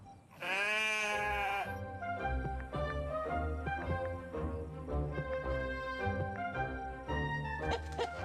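A sheep in a video game lets out a long, wavering bleat over a busy, tonal musical background; the bleat is loud and close.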